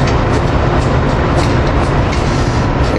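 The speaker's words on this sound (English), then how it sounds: "Here we got the New Jersey Transit Atlantic City Line train coming in." A New Jersey Transit Atlantic City Line train rolls in at 30th Street, its loud, close, steady roar of wheels and rail noise filling the scene with faint rhythmic clatter and no voices.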